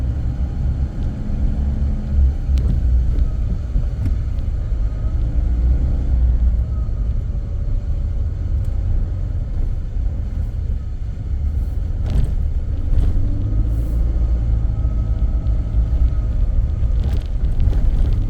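A car moves through road traffic in the Bicol region, heard from inside as a loud, continuous engine and road rumble with occasional faint knocks and no talking.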